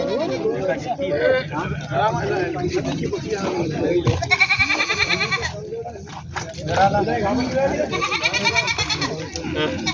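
Goats at the Hingoli goat market bleat repeatedly, several loud nearby cries rising over a busy crowd of talking people and market chatter.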